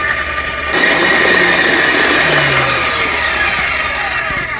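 A stand mixer whirs steadily while mixing tiramisu cream. After a short quieter start, its motor kicks up and holds an even, continuous drone close by.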